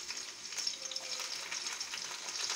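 Garlic and ginger frying in hot oil give a steady, close crackling sizzle with a faint stirring scrape, with no talk.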